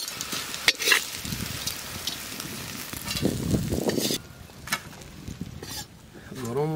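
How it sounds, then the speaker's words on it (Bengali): Pomfret fish fries in a pan at an outdoor village picnic, hot oil crackling and sizzling while a utensil stirs and scrapes against the pan; sputtering bursts come and go amid faint background voices. "পমফ্রেট মাছ ভাজা চলছে"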